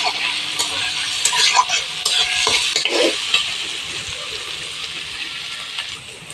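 Bitter gourd and potato fry in a pan over a clay wood-fired stove, giving a steady close sizzle with light stirring scrapes and occasional utensil taps throughout.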